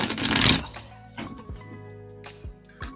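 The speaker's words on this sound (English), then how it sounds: "cards all shuffled." Tarot or oracle playing cards shuffled by hand, opening with a loud riffling burst, then a few softer, spaced card slaps and taps, close and alone with no talk.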